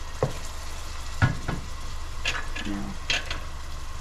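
Onions sizzle in a pan as a utensil stirs and scrapes them, a few distinct clacks over a steady low fry, close by, with a brief spoken word at the start.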